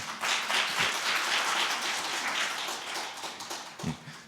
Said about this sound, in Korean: 주란희 담당관님께 다시 한번 박수로 환영해 주시기 바랍니다.